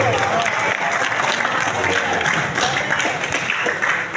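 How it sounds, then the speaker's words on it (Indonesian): Loud, dense applause from an audience at a combined student speech program (muhadarah) at an Islamic boarding school, steady clapping filling the whole stretch without pause, with some crowd voices mixed in. "hari ini tepuk tangan luar biasa."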